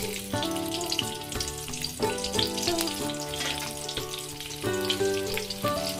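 Chopped onion frying in mustard oil tempered with nigella seeds makes a steady, close sizzle that runs without a break, with a faint tonal melody underneath.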